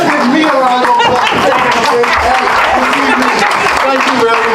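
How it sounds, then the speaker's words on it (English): Audience applause at a poetry night, a loud, steady burst of clapping from the crowd lasting the whole stretch, with voices and chatter mixed underneath. "Let's give me a round of applause."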